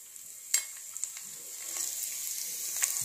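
Cumin seeds sizzle steadily in hot peanut oil in a wok, a soft continuous frying hiss with a few small pops and stirring clicks, moderately close and without talk.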